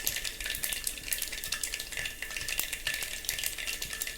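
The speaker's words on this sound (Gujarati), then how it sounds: "જો રાઈ ફૂટે છે" Mustard seeds crackle and pop in hot oil as a vegetable dish is tempered with chili, salt and turmeric, giving a dense, continuous close-up sizzle with no talking.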